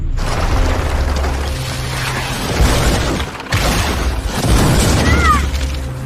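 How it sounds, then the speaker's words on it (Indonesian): Cannons fire in an anime battle scene, with deep booms and mechanical clattering over a continuous rumbling score, several blasts spaced across the stretch and one brief lull midway. "menembaki meriam ke arah mereka."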